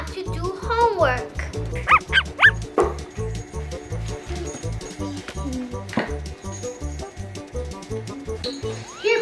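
A puppy barks in a quick run of short, sharp yips and bow-wows with a few whimpers, close and loud, while a voice is heard indoors.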